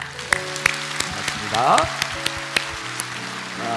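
A congregation at a Korean prayer meeting claps over sustained music, with scattered sharp claps and a brief swell partway through. A voice speaks briefly as well.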